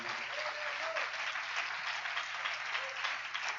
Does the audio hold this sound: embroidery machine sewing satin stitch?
no